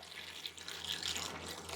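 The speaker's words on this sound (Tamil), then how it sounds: "வெந்நீர் அந்த ஆறின வெந்நீரை ஊற்றிடுவோம்" Cooled boiled water poured from a vessel over cut vegetables in a jar, a steady soft splashing trickle close by with no talk.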